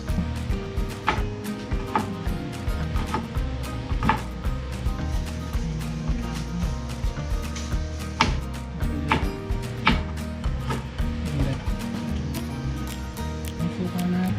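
Knife chopping onion and garlic on a board outdoors, a steady run of sharp close taps repeating about every second with faint clatter between, no talk.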